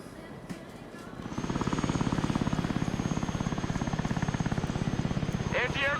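An Osprey tiltrotor aircraft in the video game Broken Arrow spools up into a loud, fast pulsing rotor thrum that holds steady, with a brief voice at the end.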